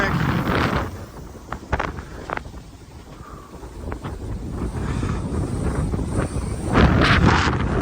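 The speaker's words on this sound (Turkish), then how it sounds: "Evet Rüzgar var" Wind buffeting the microphone outdoors at Erciyes Ski Center, a steady low roaring rush that swells into a stronger gust near the end.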